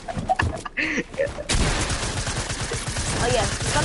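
A rapid burst of gunshots, apparently real gunfire outdoors, cracks out in a dense volley after a brief quiet stretch with a few distant pops, continuing loud and sustained to the end.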